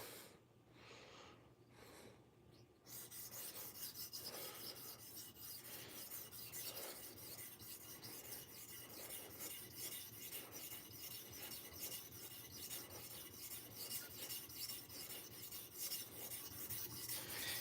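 A karambit knife blade drawn across a sharpening stone, in steady repeated rasping strokes after a brief quieter start, close and fairly soft, with no talking.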